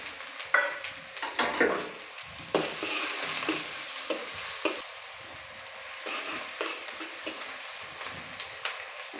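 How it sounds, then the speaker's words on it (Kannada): Chopped onions tipped straight into hot oil fry with a loud sputtering sizzle that settles into a steady crackle, punctuated by stirring and scraping in the pan, close by with no voices. "ಒಂದೆರಡು ಈರುಳ್ಳಿನ ಕಣ್ ಕಟ್ ಮಾಡಿ ಇಟ್ಟಿದ್ದೀನಿ ಇದನ್ನು ಸೇರಿಸ್ತಾ ಇದ್ದೀನಿ ಈಗ ಡೈರೆಕ್ಟ್ ಎಣ್ಣೆಗೇ ಸೇರಿಸ್ಕೊಳ್ತಾ ಇದ್ದೀನಿ"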